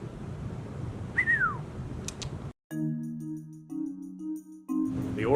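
A person whistles short melodic notes in a theater, with a brief rising-and-falling slide early on, then steadier held tones over quiet room noise.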